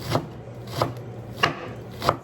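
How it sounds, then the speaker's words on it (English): A knife chops watercress into small pieces on a board, with four crisp, evenly spaced strikes over a faint steady hum and no voices. "So I cut and chopping them small, very small, so that I can in the soup."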